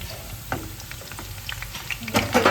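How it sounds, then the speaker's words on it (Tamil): Onions fry in hot oil, giving a short stretch of crackling sizzle with a few stirring scrapes that grow busier toward the end. "வெங்காயம் பொரிஞ்சிச்சு"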